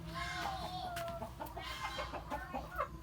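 Several chickens cluck and murmur together nearby, a soft continuous chorus of short clucks over a faint background hum.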